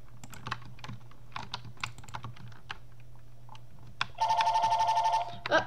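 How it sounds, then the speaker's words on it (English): A telephone rings with a short burst of repeated electronic trills after several seconds of scattered keyboard typing and clicks. The room is otherwise quiet. "Oh, the phone's ringing."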